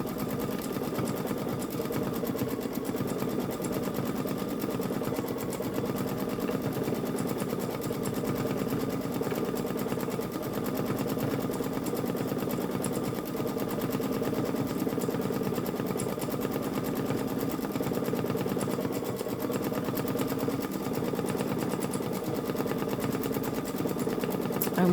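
A Babylock Solaris Vision embroidery machine stitches out a face design, its steady motor whir and rapid needle chatter running continuously and evenly at close range with no voices.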